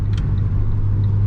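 An Abarth car engine idles with a steady low rumble and a light mechanical tapping, heard close and loud throughout.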